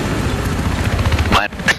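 Helicopter flying in the video game Battlefield 3, a steady loud rotor and engine drone under a person talking, with a sharp burst near the end.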